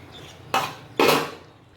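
A metal lid set down twice onto a pot of cooking chicken masala, two sharp close clanks about half a second apart, each ringing briefly before fading, with no voices.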